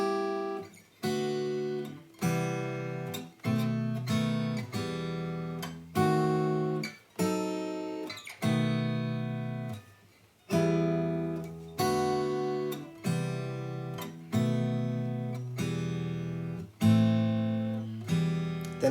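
Strummed guitar chords play an intro progression, each chord struck firmly and left to ring before the next, in a slow, steady rhythm, clear and close with no voice.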